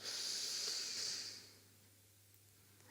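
A long, soft breath drawn in through the nose during a slow yin yoga stretch for the neck, a steady hiss lasting about a second and a half before fading into quiet.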